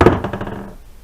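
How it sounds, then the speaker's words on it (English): A small hammer strikes a rusty rear suspension part on an early Corvair during a bushing replacement, a quick cluster of close metallic knocks that ring briefly and fade within a second. "A little hammer action."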